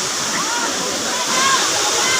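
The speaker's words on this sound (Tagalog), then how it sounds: "Apat daw tong falls na to." Daranak Falls, a waterfall with four falls, roars in a steady broadband rush close by, with faint voices mixed into the constant water noise.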